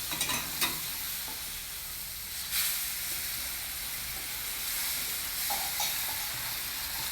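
Boiling water hits roasted rava in a hot pan and hisses and sizzles steadily while a spoon scrapes and stirs through it, with sharp bursts of steam near the start and midway.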